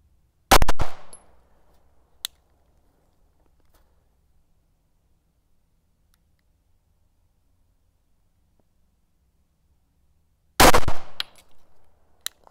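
Loud sharp pistol gunshots firing Federal American Eagle 147-grain FMJ flat-point rounds ring out, a quick pair close together at the start, then quiet, then another sharp report near the end.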